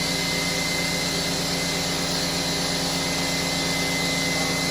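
A Harbor Freight Fortress 200 psi oilless air compressor on 110 volts running at full tilt: a loud, constant droning motor hum with a fast pulsing beat, steady and uninterrupted throughout.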